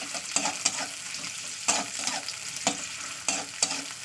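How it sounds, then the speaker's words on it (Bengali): Onions frying in hot oil crackle in a steady sizzle, with sharp spatula scrapes and stirs at irregular intervals, close and fairly quiet, no voices. "তেলটা গরম হলেই দিয়ে দিচ্ছে পেঁয়াজ পেঁয়াজটা একটু লালি করে দিয়ে নেব"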